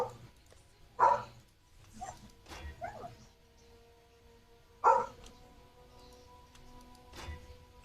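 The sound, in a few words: dog barking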